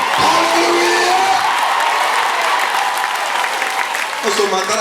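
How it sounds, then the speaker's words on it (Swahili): A church congregation at the Embassy Chapel Church claps steadily throughout, a dense continuous wash of applause with some cheering, while a preacher's voice carries over it. "Pigia Yesu makofi mazuri."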